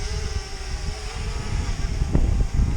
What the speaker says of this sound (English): There's a bit of a breeze around